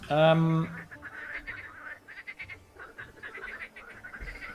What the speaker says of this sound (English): these frogs are super annoying